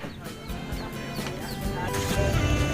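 Chickens of a laughing breed call at a farm zoo in Trang, Thailand, with repeated cackling, rolling clucks rising and falling over a busy background of other birds and farmyard noise.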